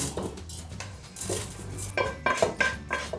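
Dishes and utensils clatter as stir-fried rice for Thai chicken rice is transferred into a rice cooker pot, with a series of close metallic clinks and scrapes, sharper and louder toward the end.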